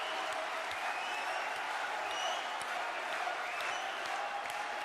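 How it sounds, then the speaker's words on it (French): Sustained audience applause at a large political rally, a dense, even wash of many hands clapping at a distance, continuing without break. "Vous pouvez encore l'applaudir très fort"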